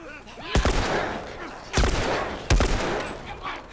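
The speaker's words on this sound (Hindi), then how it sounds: "अबे कितनी बार गोली खाएगा यार?" Gunfire against zombies in The Last of Us video game: three heavy, booming shots spaced about a second apart over a dense rumbling game backdrop, with faint voices underneath.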